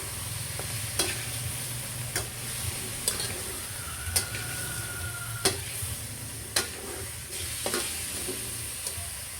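Chicken tinola being stirred in a pot over a steady low sizzle, with a spoon clinking against the pot at irregular intervals, fairly close and with no voices.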